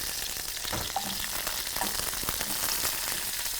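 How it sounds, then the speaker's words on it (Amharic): Onion frying in oil in a pan, a steady close sizzle with crackling pops and a few light utensil scrapes, no voices. "ይሄን ሽንኩርት ትከታለህ።"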